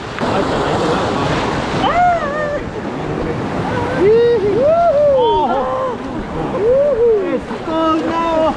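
Water rushes steadily along a river in the Indonesian jungle, a loud continuous wash heard up close beneath voices and bursts of wind on the microphone.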